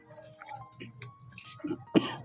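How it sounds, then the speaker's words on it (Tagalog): An elderly man's cough, a short loud burst near the end following murmured talk and soft background voices in a home setting. "parang hindi gumagaling yung ubo mo"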